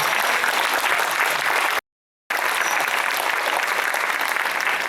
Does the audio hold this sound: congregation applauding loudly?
yes